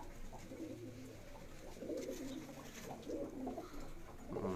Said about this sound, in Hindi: इंडियन गलबे कबूतर है जी इंडियन गलवी कबूतरी कबूतरी कबूतर है